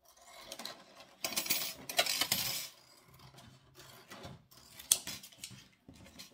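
Several short crisp snips and rustles of scissors cutting scrapbooking paper, close and quiet, coming in uneven bursts with brief pauses between.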